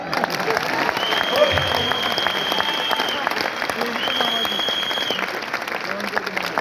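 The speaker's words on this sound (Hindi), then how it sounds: "बजाओ तालियां।" Audience applause fills a seminar hall, steady and dense throughout, with a faint voice or two in the crowd underneath.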